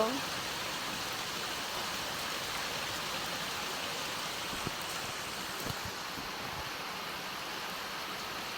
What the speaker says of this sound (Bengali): আর বৃষ্টি পড়ছো তো।